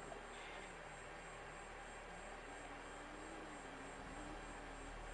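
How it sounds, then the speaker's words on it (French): A flying motorbike in a PS4 racing game buzzes steadily like a small aircraft engine, its pitch gently wavering as it passes at moderate distance beneath continuous background noise. "Qu'est-ce qu'il fait en moto volante lui"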